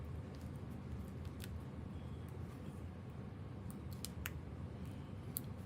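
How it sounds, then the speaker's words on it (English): Small snips trimming a paper die-cut give a few quiet, sharp clicks scattered at irregular intervals over a faint, steady background rumble, close but soft. "I'm using my little snips to get every little bit off of that dimensional that I can"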